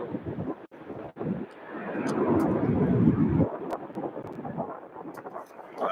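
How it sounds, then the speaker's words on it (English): A UPS MD-11 takes off from Louisville airport with a loud, broad jet roar that swells and rumbles, buffeted by wind noise across the microphone, while a voice speaks briefly over it. "the sound of the MD-11 just never gets old"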